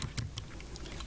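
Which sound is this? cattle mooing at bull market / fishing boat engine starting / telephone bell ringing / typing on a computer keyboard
typing on a computer keyboard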